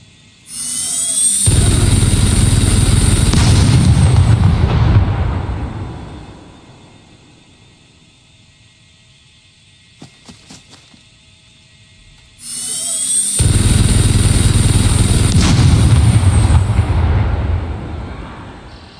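A .50 caliber BMG turret fires in the survival video game SCUM, two long loud sustained bursts of rapid automatic fire separated by a quiet gap of faint clicks.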